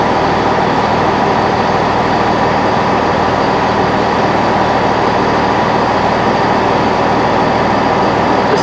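An ARRIVA Trains Wales diesel unit, class 158, pulling into Holyhead station: a loud, steady broadband rumble and roar that holds unchanged throughout, close by, with no voices.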